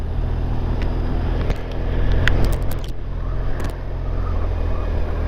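A car races past along narrow country lanes, its engine swelling to a loud peak and then fading, heard alone over steady low rumble.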